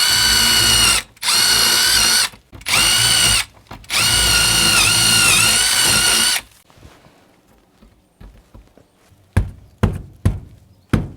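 A cordless power drill drives small screws overhead while a light fixture is mounted, with four loud whirring bursts in a row and short pauses between them. After these come quiet handling noises and a few sharp knocks.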